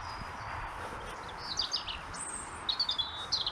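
A robin sings from a distance on Milford and Witley Common, high thin warbling phrases repeated over a hushed outdoor background of soft hiss.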